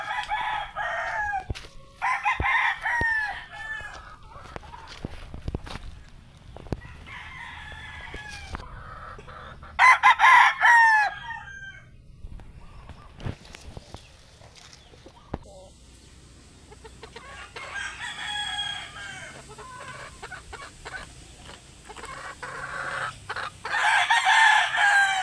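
Chickens and roosters in the Philippines cluck and squawk, with several loud nearby crows standing out among scattered clucks and rustling, and a voice speaking faintly in places.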